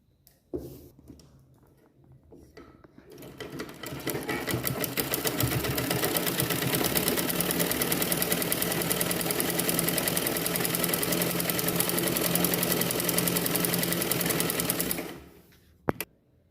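A sewing machine stitches a collar blouse in one long, rapid, steady run of needle strokes lasting about twelve seconds, starting after a quiet lead-in and ending with a sharp click, with no talking.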